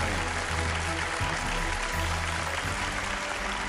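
A studio audience at a Chinese archaeology lecture program claps to welcome the guest speaker, a steady wash of applause with a low background hum throughout.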